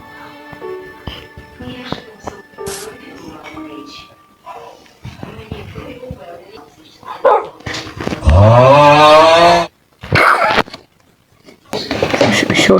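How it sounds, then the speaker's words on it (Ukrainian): A Minecraft dog barks in short bursts amid game sounds, while children talk over it and one voice gets loud near the end. "Знайшов ще одного пса."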